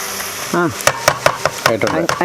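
Prawns and onions frying in a pan while being stirred and turned, with close, loud scraping strokes of a spoon against the pan over a steady sizzle.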